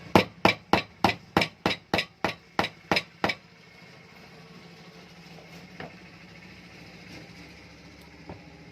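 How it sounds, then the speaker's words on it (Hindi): A plastic hammer taps a bearing into place with about ten sharp, evenly spaced knocks over three seconds, close and clear, followed by a faint quiet room. "इस तरीके से हम हथौड़ी से इस तरीके से ठोकेंगे। हम प्लास्टिक की हथौड़ी का यूज कर रहे हैं।"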